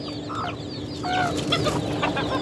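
Caged local desi chickens cluck in short, overlapping calls over low background noise, fairly close and moderately loud.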